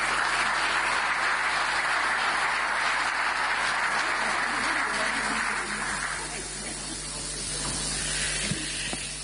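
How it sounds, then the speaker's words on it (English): Applause at the EU–African Union summit in Angola, a steady broad wash of clapping from a large hall that thins and softens toward the end, with no voices. "Give her a warm round of applause."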